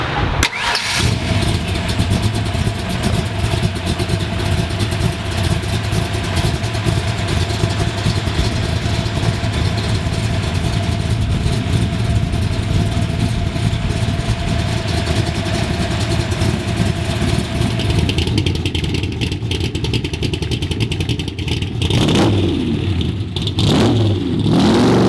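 A 1965 Shelby Cobra replica's small-block V8 cranks and fires, then settles into a loud, close, steady idle with throttle blips and revs toward the end, heard alone.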